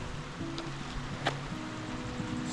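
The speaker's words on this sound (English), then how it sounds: "I do love the babble to fall asleep to, the babble of the brook." A babbling brook beside a wild camp on a Penistone to Edale hike, heard as a continuous, fairly even rushing wash with no pauses and faint low tones underneath.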